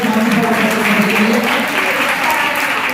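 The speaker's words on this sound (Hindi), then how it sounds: "जोरदार तालियां हो जाए" Dense, loud applause from the audience at a Hindi kavi sammelan (poetry gathering) at a Sanskrit college in Sanganer, Jaipur, sustained and even throughout with a murmur of voices mixed in.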